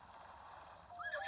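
A horse in The Legend of Zelda: Tears of the Kingdom gives a short whinny over faint hoof clip-clop, quiet and brief.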